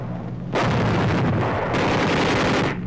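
Wartime bombing and gunfire in 1945 Philippines archival film: a sudden loud, sustained roar of explosions and shooting bursts in about half a second in, dips briefly, then rages on before cutting off.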